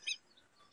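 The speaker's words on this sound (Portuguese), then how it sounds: "Esse é o canto do Quero" A southern lapwing, the quero-quero, gives one short, faint high-pitched call, then fainter chirps trail off with no voices.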